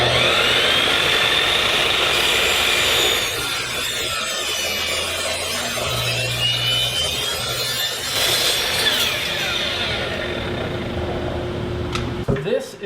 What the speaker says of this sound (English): 45s on the miter saw.